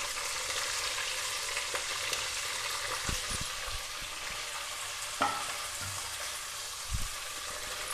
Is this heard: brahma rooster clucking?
no